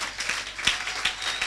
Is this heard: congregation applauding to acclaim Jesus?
yes